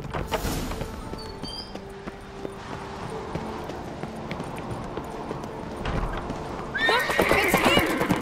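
Horse hooves clip-clopping with a horse neighing in The Witcher 3, hoofbeats ticking steadily amid game ambience, then a loud whinny bursting in near the end.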